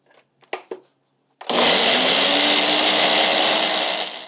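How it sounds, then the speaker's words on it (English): A few short clicks and taps, then a blender roars to life at close range, running loud and steady for several seconds. "we're going to blend until smooth"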